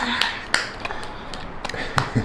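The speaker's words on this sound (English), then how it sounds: "Clap for yourselves." A few sharp, scattered hand claps from young children at a family mealtime, light and irregular, with quiet background talk.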